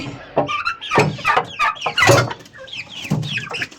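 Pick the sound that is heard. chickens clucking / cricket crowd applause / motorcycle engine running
chickens clucking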